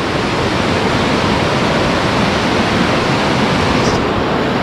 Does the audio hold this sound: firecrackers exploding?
no